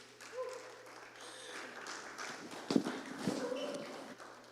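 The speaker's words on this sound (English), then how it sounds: "Keep the applause going." An audience applauds at a talk on coalition building and movement ecology as a speaker is welcomed on stage, giving steady, fairly faint clapping from a crowd with a few louder claps.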